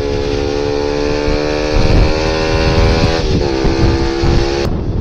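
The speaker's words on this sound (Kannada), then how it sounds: "NS 200 ಬೈಕು ಅದರಲ್ಲಿ ಇನ್ಸ್ಟಾಲ್ ಆಗಿರೋದು ಎಕ್ಸಾಸ್ಟ್ ವಿತೌಟ್ ಡಿಪಿ ಕಿಲ್ಲರು" A Bajaj Pulsar NS200 motorcycle with an aftermarket exhaust and no dB killer idles with a loud, throaty, rumbling exhaust, steady and close, with a slight rev partway through before it cuts off abruptly.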